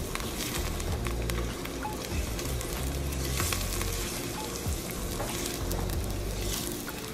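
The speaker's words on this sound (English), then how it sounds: "add our fresh garlic into that hot pan that I added the olive oil" Fresh garlic sizzles in hot olive oil in a pan, a dense, continuous crackling fry that stays loud and even throughout with no talking.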